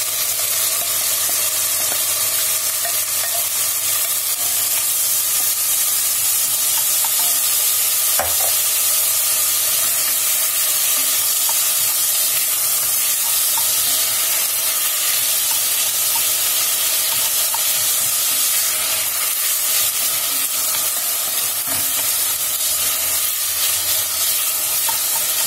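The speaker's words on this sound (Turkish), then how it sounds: "Kerevizleri de karıştırıyorum." Steady sizzling of chopped celery frying in oil in a hot pan, with soft scraping as it is stirred, continuous and fairly loud throughout.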